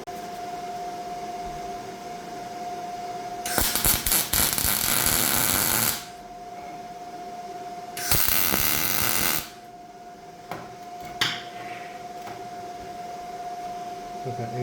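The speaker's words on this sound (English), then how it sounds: "I'm gonna MIG weld this part" MIG welding on a metal part in a workshop: two loud crackling, buzzing bursts of a few seconds each, with a steady hum and a few short clicks between them.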